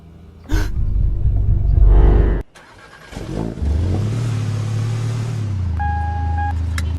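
Car engine in the mobile driving game Real Car Parking 2 starts with a couple of loud revs, drops briefly, then settles into a steady idling hum with a soft chime near the end.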